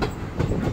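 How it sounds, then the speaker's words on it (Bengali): A train rolling slowly toward Teliamura railway station on the Agartala special route, a brief burst of steady rumbling rail noise with faint wheel clatter, close and continuous, no voices. "ট্রেনটা ধীরে ধীরে তেলিয়ামোড়া রেলওয়ে স্টেশনের দিকে যাইতেছে"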